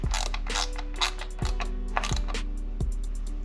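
Ratcheting clicks from a T25 Torx bit tightening a bolt on a Turbosmart VeePort Pro blow-off valve in a Fiesta ST engine bay, a few spaced metallic pawl ticks over a steady low mechanical hum.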